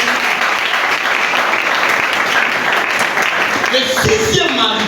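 A church congregation applauds and cheers in praise during a worship service, a dense and loud wash of clapping with voices mixed in, steady throughout.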